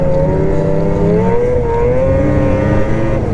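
BRP Lynx Xterrain 900R snowmobile engine held at about three-quarter throttle in loose fresh snow, a loud, steady, close droning whine with slowly shifting pitch, running alone throughout.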